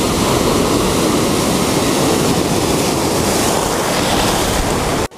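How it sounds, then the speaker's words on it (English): Ocean waves break steadily on a tropical rocky point at sunset as the tide comes back in, a loud continuous wash of surf with wind noise buffeting the microphone throughout. "Waves are beginning to pick up as the tide's coming back in."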